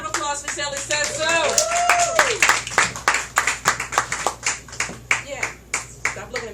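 An audience at a live music and arts performance night claps for a performer, starting as a dense crowd round and thinning to scattered, evenly spaced claps near the microphone, with a voice talking over the start.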